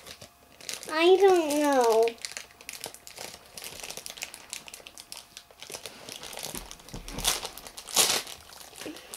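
Crinkling and tearing of a plastic blind-bag package, a Walking Dead Mystery Mini, as it is pulled open in uneven bursts, with a voice and other talk over the rustling.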